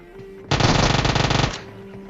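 Rapid automatic gunfire from a battle royale video game, a loud dense burst of about one second that starts abruptly and stops, with quieter game ambience before and after.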